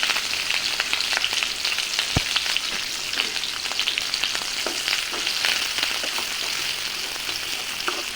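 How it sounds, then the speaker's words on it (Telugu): Onions, tomatoes and curry leaves fry in hot oil for a drumstick curry, giving a steady, dense sizzle and crackle throughout, with occasional sharp pops and a light scrape of stirring, close and fairly loud, no talk. "కట్ చేసుకున్న ఆనియన్స్, టమాటోస్, ఇంకా కరివేపాకుని కూడా వేసుకొని మనం గోల్డెన్ బ్రౌన్ కలర్ వచ్చేంత వరకు బాగా ఫ్రై చేసుకోవాలి"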